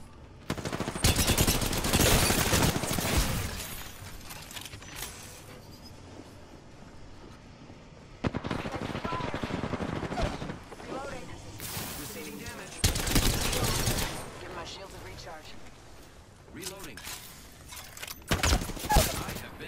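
Long rapid bursts of R-99 submachine gun fire in Apex Legends crackle loudly in several sprays with short gaps between them, and players' voices can be heard in the lulls.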